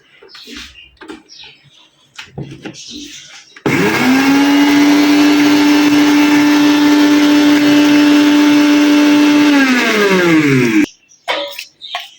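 A blender grinds watermelon fruit for sharbat in a home kitchen: a loud, steady motor whine starts abruptly, holds for about seven seconds, then winds down, with someone speaking softly before and after.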